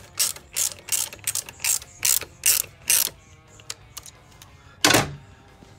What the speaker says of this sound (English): it's kind of tight to get the 10 millimeter socket onto it